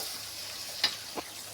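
Mustard seeds and fenugreek fry in oil for a mango chilli pickle, giving a steady close hiss with a couple of brief sharp pops or stirring scrapes.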